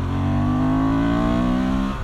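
A motorcycle engine accelerating out of a bend, heard as a loud, steady drone with rising harmonics, close and alone without talk.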